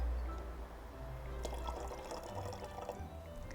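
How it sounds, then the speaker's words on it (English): Cold water is poured into a bottle that already holds vinegar, for a homemade eruption experiment; a soft, low gurgling fill runs quietly for a few seconds, with faint splashes toward the end. "I will now be adding some cold water."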